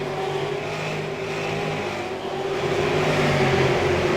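Super Late Model race cars roar around Five Flags Speedway, with a loud, sustained engine drone that holds steady and swells slightly toward the end as the pack passes.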